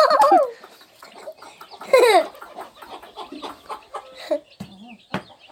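Chickens cluck close by in a farmyard, with sharp squawks near the start and a scatter of shorter clucks and calls that follow at an uneven pace.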